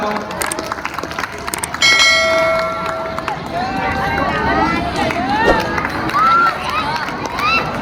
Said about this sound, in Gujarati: તાળીઓનો ગગડાટ ચાલુ રહેવો જોઈએ